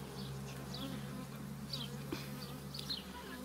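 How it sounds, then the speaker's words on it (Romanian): A steady, close drone of Carniolan black honey bees buzzing continuously, with a low hum underneath and a few brief higher whines from passing insects. "Albină neagră, neagră."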